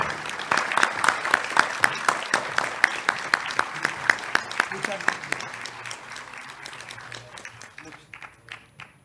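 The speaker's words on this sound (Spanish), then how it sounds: "Démosle por favor un cálido y fuerte aplauso a nuestro primer expositor" An audience at a history lecture applauds the first speaker with rhythmic, evenly spaced group claps that stay loud and regular, then fade and loosen toward the end.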